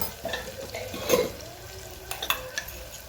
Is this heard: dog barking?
no